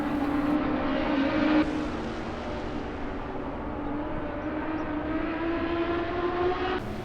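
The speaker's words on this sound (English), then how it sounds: "Incredible speeds as they race through the Maggots-Beckett complex." GT3 race cars at Silverstone in Assetto Corsa, racing through the Maggots-Beckett complex: a loud, sustained engine roar with a steady pitch, gear changes audible as abrupt shifts, and no voices.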